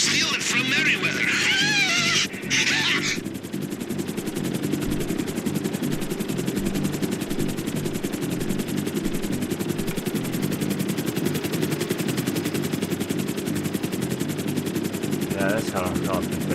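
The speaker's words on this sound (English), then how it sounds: "this helicopter pretty much just stays in town." Helicopter in GTA Online's Cayo Perico heist, rotors thudding steadily and loudly while bursts of machine gun fire rattle; a voice talks briefly near the start.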